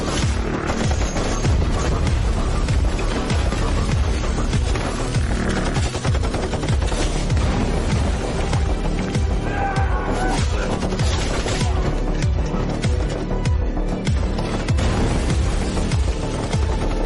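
Rapid automatic gunfire rattles without pause through a 1937-set dubbed period film, dense and loud for the whole stretch with explosive crackles and no clear voices.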